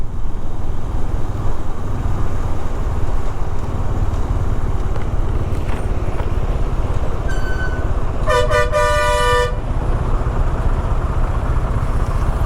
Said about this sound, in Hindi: क्या ट्रैफिक है ब्रो।